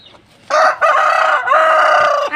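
A rooster crows loudly and close in two long strained bursts, preceded by soft clucking from chickens being fed.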